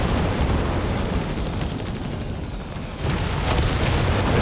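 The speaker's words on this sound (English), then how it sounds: "Fires off a grenade, but he's going to retreat into his own grenade." Grenade blast in Company of Heroes 3 during a 3v3 battle: a sharp explosive thump surges out of a steady wash of combat noise and distant gunfire, loud and close, with no voices.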